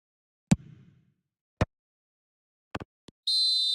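Referee's whistle in an eFootball match between Portugal, heard as a few brief sharp blasts followed by a sustained shrill tone, loud and alone without commentary over it.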